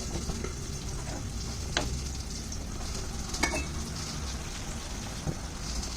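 A spice paste of cumin and black cumin with onions sizzles steadily in hot oil as it is stirred, with a few soft scrapes and clinks of the spoon over the constant frying hiss.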